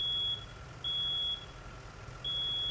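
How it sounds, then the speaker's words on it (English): A truck's reversing alarm sounds at a hazmat scene, giving long, piercing electronic beeps that repeat at intervals over a low rumble of engine and background noise. "Oh, that beeping's killing me."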